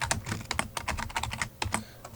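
Fingers type rapidly on a computer keyboard, producing a close, crisp patter of individual key clicks in quick irregular bursts with a brief pause midway, no voice present.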